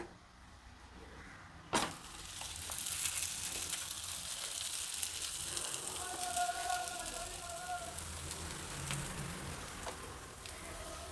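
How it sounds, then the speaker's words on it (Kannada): A ragi roti sizzles in oil on a hot griddle, with a steady, close, crackling hiss that starts abruptly and continues throughout, with faint kitchen clatter. "ಹೆಂಚು ಬಿಸಿಯಾಗಿದೆ ಸ್ವಲ್ಪ ಎಣ್ಣೆ ಹಾಕ್ಬಿಟ್ಟು ರೊಟ್ಟಿ ಬೇಯೋದಕ್ಕೆ ಇಡೋಣ"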